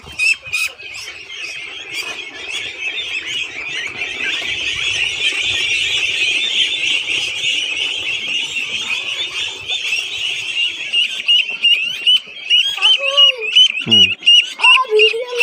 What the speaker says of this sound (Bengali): সে হাঁস ধরতেছে